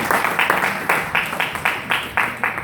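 Audience at a fundraising dinner clapping in a steady, rhythmic beat, roughly two claps per second, close and fairly loud, with no talking over it.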